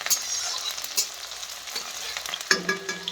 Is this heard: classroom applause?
no